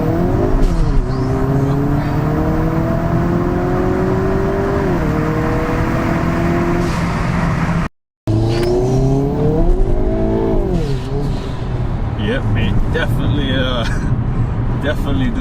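Hyundai Kona N in race mode fitted with an aftermarket race chip, engine revving and accelerating loudly through rising gear sweeps, a brief gap, then more hard acceleration with tyre noise and someone speaking over it.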